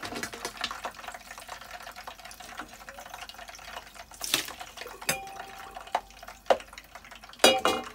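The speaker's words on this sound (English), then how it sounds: "we can hear it, that it is stopping the bubbling" Liquid heated for cooking without an open flame bubbles and crackles in irregular small pops, with a few louder bursts toward the end over a quiet background.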